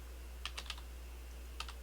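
Typing on a computer keyboard, a few faint, crisp key clicks in two short clusters over a steady low hum, with no voices.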